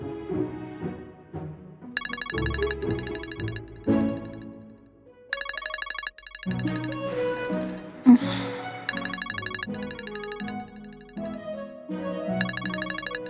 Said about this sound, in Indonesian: Siapa tuh malam-malam gini nelfon Amira?